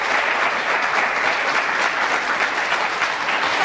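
A studio audience at the French TV game show Pyramide claps loudly and evenly, a thick unbroken wash of applause with no voices on top.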